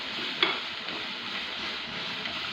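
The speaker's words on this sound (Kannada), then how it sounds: "ಎಣ್ಣೆ ಸಾಸಿವೆ ಒಣಮೆಣಸಿನ್ಕಾಯಿ ಈರುಳ್ಳಿ ಬೆಳ್ಳುಳ್ಳಿ" Oil sizzles softly in a pan as mustard seeds, dried red chilies, onion and garlic are tempered for a greens curry, a faint steady crackle with one small pop near the start.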